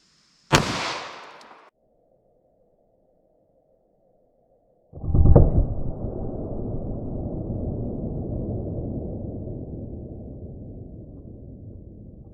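A 9mm round fired from a 5-inch-barrel pistol through MDF into ballistics gel, heard as a sharp crack followed a few seconds later by a heavier booming blast whose roar trails off slowly.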